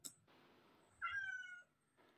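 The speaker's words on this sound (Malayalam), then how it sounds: "നമ്മളെ തള്ള പൂച്ചയാണ്" A mother cat meows close by, starting with a short sharp cry, then a longer, clear drawn-out meow in the middle, and a faint brief call at the end, with quiet pauses between.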